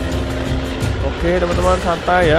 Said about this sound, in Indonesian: Suara mobilnya kayak gini ya.